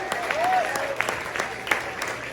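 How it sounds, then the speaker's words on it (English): Scattered applause from a comedy club crowd at a sports pub in South Arlington, Virginia, with sharp individual claps and a whoop or whistle rising over the clapping, fairly thin and uneven. "Give yourselves a round of applause."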